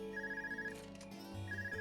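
A telephone rings in the Trails of Cold Steel video game, a loud electronic ringtone with a repeating warbling trill in two bursts, heard alone.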